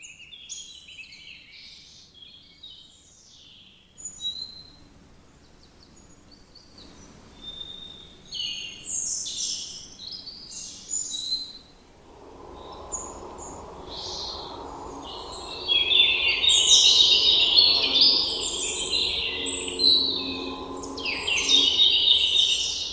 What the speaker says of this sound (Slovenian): Kako zelo meditativno je ptičje petje.